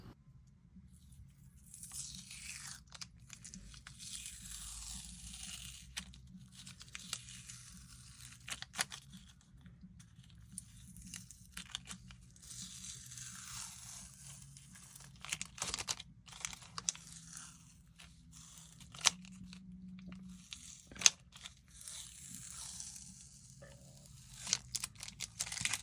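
Tape peeled from the back of a tan-coated leather piece for a cigar or pipe rest, with intermittent crackly tearing and sticky crunching in bursts, fairly close but quiet, across a long stretch with pauses.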